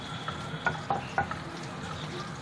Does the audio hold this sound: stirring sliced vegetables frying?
yes